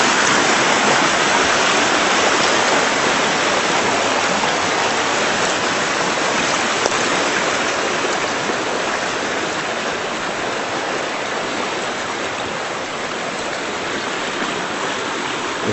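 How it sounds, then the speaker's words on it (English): A swollen creek roars past steadily, a dense, unbroken rush of fast water that stays loud and close the whole time with no voices over it. "Creek is really roaring."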